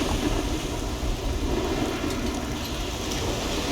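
Steady, dense rain with rumbling thunder from a storm in the video game Risen 2, a continuous loud wash of downpour with low rolling booms underneath and no talking.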